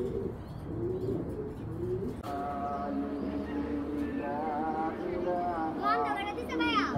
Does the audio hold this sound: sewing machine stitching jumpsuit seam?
no